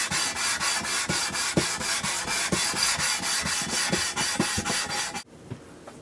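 Abrasive paper rubs rhythmically back and forth on a Smith & Wesson third-generation pistol frame, a fast, close, evenly paced rasping that stops abruptly near the end.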